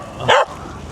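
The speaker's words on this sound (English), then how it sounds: "That is one of the most spoilt dogs I've ever seen." A single sharp, close dog bark cuts through quiet outdoor background in Rochester, Kent, at Christmas time.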